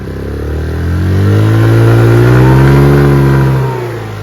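A Chinese 150cc motor scooter engine revs up under throttle, pitch climbing and holding high before easing back, loud and close with no talk.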